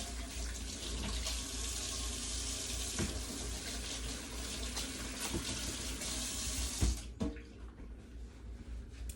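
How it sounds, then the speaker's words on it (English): A kitchen tap runs steadily while hands are washed under it, a continuous splashing rush of water that cuts off near the end, leaving a few faint handling clicks. "I'm gonna wash my hands real quick"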